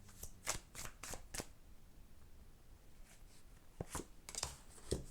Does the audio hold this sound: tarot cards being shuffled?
yes